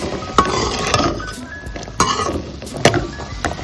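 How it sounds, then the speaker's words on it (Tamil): Metal spoon clinks and scrapes in a pan while beans and peanut stir-fry is stirred, a series of sharp close taps spaced about a second apart over a soft background hiss. "இதை நாம் நல்லா கலரி கொடுக்கலாம்."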